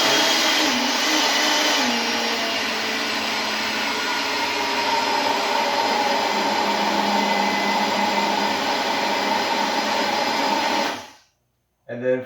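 A countertop kitchen machine runs steadily for about eleven seconds, mixing cottage cheese cookie dough with a loud, even motor whir and churning, then cuts off abruptly; a faint clunk follows.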